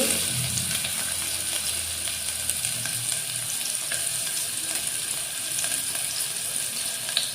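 Bay leaves and chopped onion frying in mustard oil in a pan, a steady bright sizzle that holds throughout, with a few stirring scrapes near the start.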